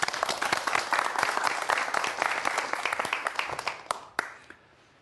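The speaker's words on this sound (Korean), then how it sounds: "박수 부탁드립니다." Enthusiastic audience applause fills a lecture hall during a televised Korean science talk on quantum mechanics, with dense clapping that holds steady for several seconds before thinning to a few last claps and fading out.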